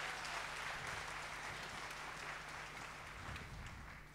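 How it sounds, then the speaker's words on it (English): An audience of partners and supporters at a Singapore event claps in a steady, even round of applause that fades slightly toward the end, sounding distant and soft. "Big round of applause to yourselves"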